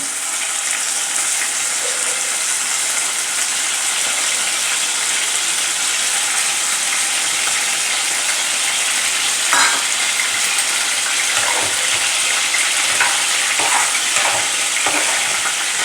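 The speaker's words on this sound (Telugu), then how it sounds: "ఇదిగోండి ఆయిల్ కాగింది దాంట్లోకి మనం చికెన్ కడిగి పెట్టుకున్నాం కదా చికెన్ వేసుకుంటున్నాం" Washed chicken dropped into hot oil for a Godavari-style chicken curry sizzles loudly and steadily up close, with a few stirring scrapes and clinks toward the end and no talking.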